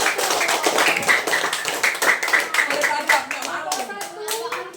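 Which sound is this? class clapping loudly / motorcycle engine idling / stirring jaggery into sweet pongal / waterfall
class clapping loudly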